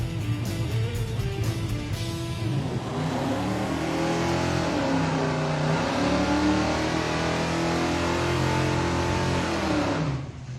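Crop duster street machine engine revving under load in a garage, a loud sustained roar climbing and holding steady for about ten seconds before cutting off near the end.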